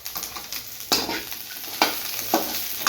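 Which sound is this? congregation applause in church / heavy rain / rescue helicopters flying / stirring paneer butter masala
stirring paneer butter masala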